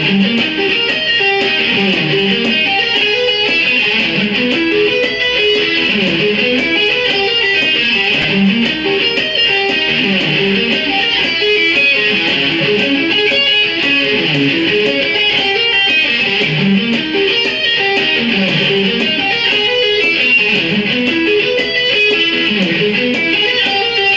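Electric guitar playing arpeggios slowly, continuous rising and falling note sweeps in a repeating pattern, loud and sustained for the whole stretch with no talking.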